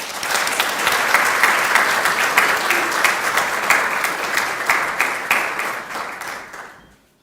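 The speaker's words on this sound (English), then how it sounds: "please give her a round of applause" Audience applause welcoming Professor Wesaal Khan at an inaugural lecture, a loud sustained burst of many hands clapping with some distinct claps, gradually thinning and fading out at the end.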